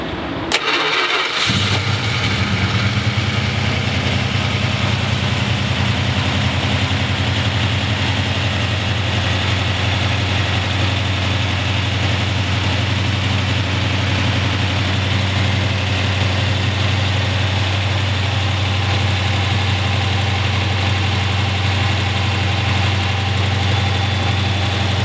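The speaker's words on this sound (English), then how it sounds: "We always suggest you have the car running." A 1967 Plymouth Barracuda convertible's engine starts with a brief burst, then settles into a steady, close, low idle rumble that holds evenly throughout, with no voices.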